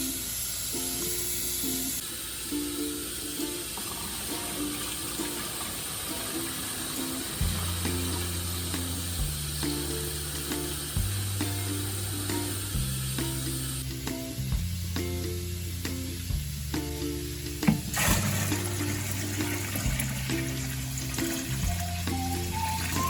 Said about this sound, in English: So once I get the tub about halfway full